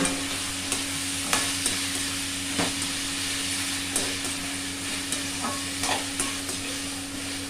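Vegetables sautéing with asafoetida for sambar, a continuous sizzle under periodic scraping stirs of a spoon against the pan, with a low steady hum in the background.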